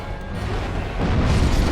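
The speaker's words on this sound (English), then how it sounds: "Oh, that fucking explosion" A loud, sustained rumbling explosion in the Dark Souls video game, a broad roaring blast that swells and holds for a moment with no talk over it.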